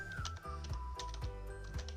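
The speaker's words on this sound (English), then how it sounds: "going to the chat and typing /give" Computer keyboard keys tapped in quick, regular bursts while a chat command is entered during a Minecraft-style command tutorial, the clicks close and clear over a steady background tone.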